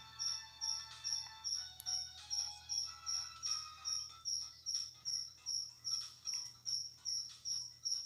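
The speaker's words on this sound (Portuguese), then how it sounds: "E o grilo tá frenético." A cricket chirps frantically in fast, regular pulsing bursts, about two per second, steady and fairly close over a quiet low background hum, with no voices.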